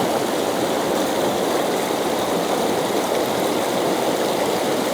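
Waterfall pouring beneath a footbridge at a royal residence at the Chae Son hot springs in Lampang, a dense, steady roar of rushing water holding loud and unbroken throughout with no voices.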